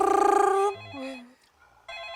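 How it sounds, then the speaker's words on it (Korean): A telephone rings with a brisk, trilling bell burst near the start, followed by softer tones and a quiet gap before the ringing resumes, heard within a late-night ghost-story telling. "따르릉 전화가 한 통이 오는 거예요"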